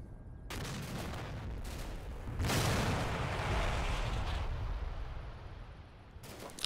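Artillery shells landing in the modern-warfare strategy game Combat Mission Black Sea, a sustained low rumble of blasts that swells after a couple of seconds and rolls on before easing.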